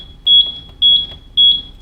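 A Buzzaround LX GB119 mobility scooter sounds its error code after the key is turned on with the freewheel lever engaged: loud, close, high-pitched electronic beeps in evenly spaced pairs, repeating with no talking.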